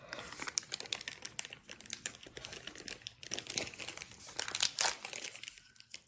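A trail mix snack bag is torn open by hand, giving a close, faint run of crinkling plastic, crackles and short ripping bursts in irregular spurts.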